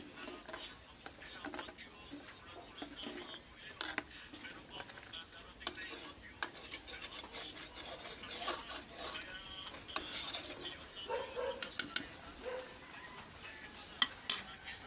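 Miswa noodle soup at a rolling boil in a pot, giving a steady bubbling, sizzling wash with scattered stirring clinks, close and moderately loud throughout with a faint voice now and then.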